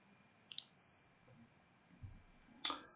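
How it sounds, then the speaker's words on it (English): Two crisp, close computer mouse right-clicks, each a short sharp snap, separated by about two seconds of near silence with a faint low thump between them. "let's right click this one."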